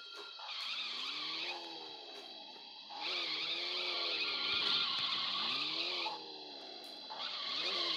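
Tires squeal repeatedly as a car skids through turns in a driving video game, long sweeping screeches with pitch bends over a droning engine, several separate skids in a row, loud and close.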